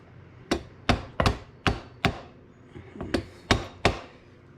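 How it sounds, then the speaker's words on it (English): A hammer strikes a screwdriver to bend back the brake lock tabs on a 400EX, giving about ten sharp metallic taps at an uneven, fairly quick pace. The taps are close and distinct, with no other sounds. "I normally use a hammer and a screwdriver. Just a couple little taps just to bend these back."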